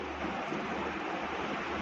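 Water is poured into a pan of aloo keema matar, a steady rushing splash that holds evenly for a couple of seconds, close and alone.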